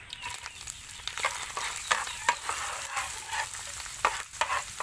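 Garlic frying in hot oil during a pork and chicken ginger dish, giving a steady close sizzle with light stirring and scraping strokes and a few sharper crackles, no talking.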